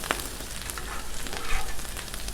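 Sausage and vegetables fry on a 36-inch Blackstone griddle with a dense, steady sizzle and crackle, close and constant, with no voices.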